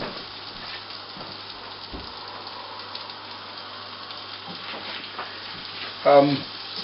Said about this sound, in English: the chopped garlic into the butter and try to fry it in the butter for about a minute or so